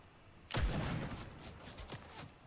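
A single loud, booming gunshot from an assault rifle in a shooter video game cracks out, then rings away, followed by a few fainter shots further off.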